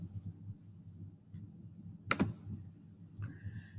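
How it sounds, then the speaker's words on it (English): Students in a classroom typing on computer keyboards, a faint low patter of key clicks with one sharper burst of clicking partway through. "they're typing a definition in a sentence"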